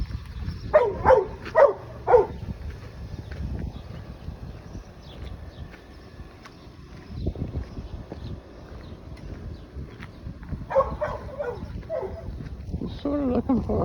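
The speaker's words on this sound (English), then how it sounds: "There's a dog." Outdoors on Tangier Island, a dog gives two brief bursts of barking, one near the start and one near the end, beneath ongoing people's talk and open-air background noise.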